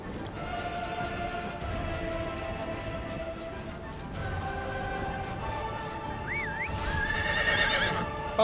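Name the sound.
horse neighing in the video game Chrono Odyssey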